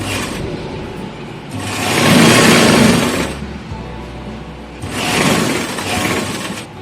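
A sewing machine stitching around the neckline of a kurti, running in two loud close bursts of rapid mechanical whirring separated by a quieter pause.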